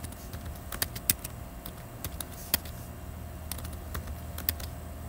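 Someone types a password on a computer keyboard with a quick, irregular series of crisp, close key clicks over a low background hum.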